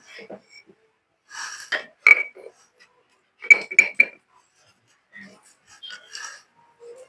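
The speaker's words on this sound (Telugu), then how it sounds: "దీంట్లో కొంచెం ఉప్పు వేసి ఎనిపించేస్తాను" Metal spoon scraping and clinking against a pan while cooked gongura leaves are stirred with salt, several short bursts of clatter separated by pauses.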